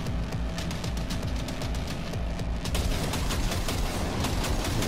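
Gunfire in the video game Cyberpunk 2077: rapid automatic bursts crackle over a heavy rumbling battle din, loud and continuous across the clip.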